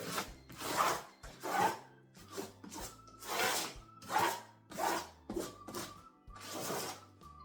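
Soil being scraped aside by hand while sowing small Carnival Blend sweet bell pepper seeds, a series of close, harsh rasping strokes in a steady rhythm, each scrape rough and grating, with no talk.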